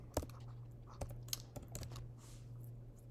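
Computer keyboard typing, a few scattered key clicks at close range over a steady low electrical hum, no talking.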